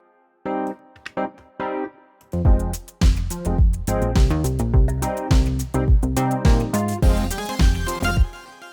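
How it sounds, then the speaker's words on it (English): Electric piano with a warm, bell-like Mark II Rhodes tone from the Xpand synth plays a few soft opening notes, then a fuller run of chords and melody, steady and clear with no voices. "This is Xpand playing a Mark II Rhodes sound."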